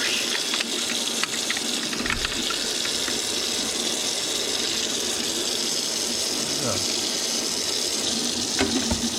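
Water from a tap pours steadily and loudly onto a part of an LG A9 cordless vacuum, a continuous gushing splash with no pauses.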